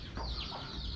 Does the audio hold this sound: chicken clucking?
yes